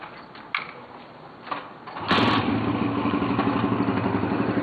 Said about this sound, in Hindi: ले आओ समीर, स्टार्ट करो, ले आओ बाइक।